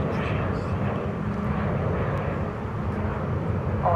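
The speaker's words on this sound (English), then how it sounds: "Eva Air just checking in from Taipei, Flight 50. 7879 Dreamliner just touched down" An Eva Air Boeing 787-9 Dreamliner touches down at DFW Airport, a broad, steady jet roar that stays loud and even throughout.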